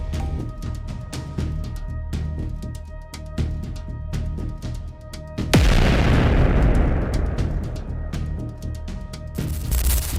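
A heavy, deep boom erupts midway as an atom bomb explodes over a city, followed by a long rumbling roar, set against a droning background with a second swell near the end.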